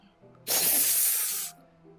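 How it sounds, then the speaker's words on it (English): Sharp inhale through the teeth in the video game Doki Doki Literature Club: a single loud, airy hiss lasting about a second, set against faint low background tones. "sharp inhale, someone's sucking the air through her teeth."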